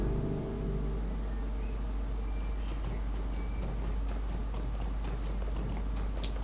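A regular horse's hooves clip-clop steadily along a northern route in the Lord of the Rings Online game, a continuous rhythmic clatter over a low background drone with no talk.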